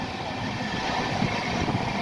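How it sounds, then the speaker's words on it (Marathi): The Pune–Shirdi Intercity Express passes Sarola station at high speed, with a steady loud rumble and rushing noise that continues evenly throughout. "एकदम जबरदस्त स्पीडनं मित्रांनो सारोळा रेल्वे स्टेशन मागे टाकत आहे सध्या आपली ट्रेन"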